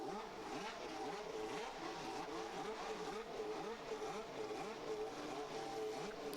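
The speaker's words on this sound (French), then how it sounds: "le V12 vient de rouvrir, se mettre en route. Écoutez-moi ce bruit, c'est juste magique." A roaring, high-revving V12 Formula 1 car engine during qualifying at the Italian Grand Prix at Monza drones steadily and loudly, its pitch rising and falling in repeated sweeps as it accelerates through gears.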